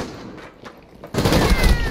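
A burst of rapid automatic gunfire in a first-person shooter game, loud and dense, cutting in abruptly after a quieter moment of game ambience.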